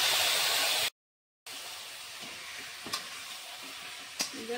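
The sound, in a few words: marinated mutton frying with browned onions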